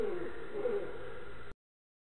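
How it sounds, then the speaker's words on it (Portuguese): A slowed, deeply pitched-down bird call, sound design for a suspense film, warbles in low, eerie tones for about a second and a half, then stops, leaving silence. "o som desse passarinho aqui"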